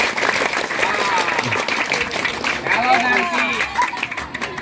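A group claps along in a call-and-response clapping game, the claps dense and overlapping in a rough pattern while a leader's voice and excited shouting run over them.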